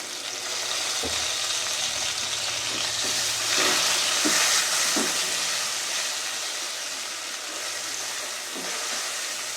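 Green chilli and garlic paste fry in hot oil for a river fish curry, making a steady loud sizzle with a few soft stirring scrapes, close by and without talk.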